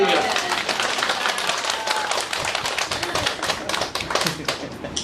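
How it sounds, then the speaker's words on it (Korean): A church congregation at a Sunday service claps together in a steady rattling burst of applause, while a voice talks over it. "이건 하나님께 영광의 박수야"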